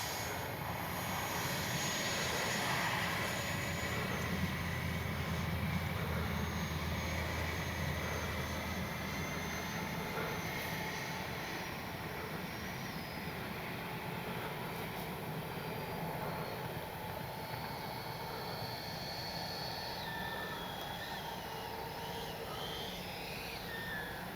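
A Freewing F-22 70mm electric ducted fan model jet flies past with a sustained whooshing whine that stays fairly steady and distant for the whole stretch.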